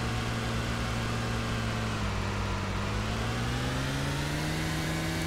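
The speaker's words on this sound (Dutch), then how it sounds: "En die auto vindt het niet grappig. Die wil haast niet vooruit naar boven." A car engine in the video game DayZ drones steadily as it strains to climb a steep slope, its pitch creeping upward while it labours, with no talking over it.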